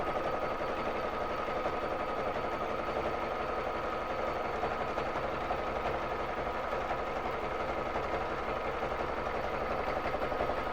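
Baby Lock Jazz II sewing machine stitching steadily while free motion quilting on a frame, a continuous fast mechanical whir and rapid needle chatter at a constant level throughout, with no talk.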